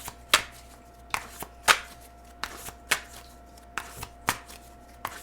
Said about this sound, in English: Let's grab one more card here.